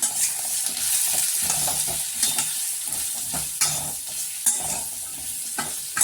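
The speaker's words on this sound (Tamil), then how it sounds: "இது எல்லாத்தையும் மிக்ஸ் பண்ணி விட்டுக்கலாம்" Pumpkin and spices sizzle in a hot pan while a spoon scrapes and stirs, with a few sharper clinks against the metal.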